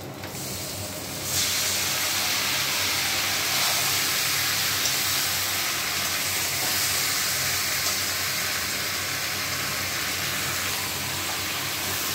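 A loud, sudden surge of sizzling as marinated chicken pieces hit hot oil in a wok, then a steady, dense hiss that continues unbroken, close up.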